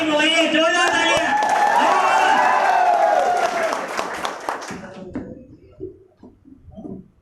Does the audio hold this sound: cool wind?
no